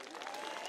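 A crowd at a political campaign rally for the president in Nyeri county, Kenya, applauding in a dense, steady wash of clapping that holds at an even level for a brief moment.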